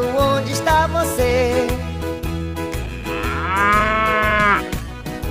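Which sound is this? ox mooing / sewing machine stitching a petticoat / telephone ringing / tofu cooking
ox mooing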